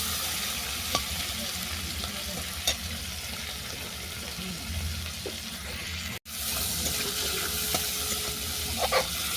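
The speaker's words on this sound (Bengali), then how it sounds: "চিংড়ি মাছটাকে আমি ভালো করে ভেজে নেব" Shrimp seasoned with salt and turmeric fry in hot oil in a pan, a steady close sizzle with occasional stirring knocks and one brief dropout partway through.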